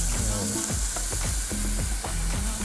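Loud, steady sizzling of a beef burger patty frying in hot bacon fat, with a spatula scraping and stirring in the pan at intervals.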